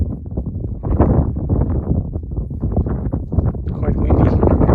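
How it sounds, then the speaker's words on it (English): Gusty wind buffeting the microphone outdoors on a sunny day near a small lake and sledding hill, heavy low rumbling rush that swells and fades in uneven surges throughout. "Quite windy, no bugs."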